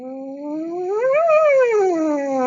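A trumpet holds a single bending tone that rises from low to high and slides back down again, one continuous sustained note, loud and close.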